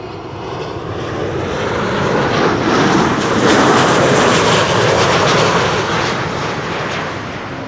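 A Boeing 737-800, registration PH-HZD, 26 years old, arrives from Verona with a loud, steady jet roar that swells toward the middle and stays broad and close throughout, with no voices.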